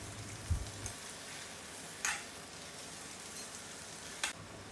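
Soft cooked raw papaya sizzles steadily in a hot pan for green chilli sabji, a faint continuous frying hiss broken by a few brief scrapes and clinks.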